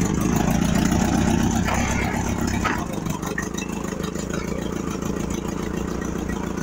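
Ford tractor engine idling steadily after a restart with the choke pulled a little, a continuous low running rumble that holds through the clip while people talk nearby.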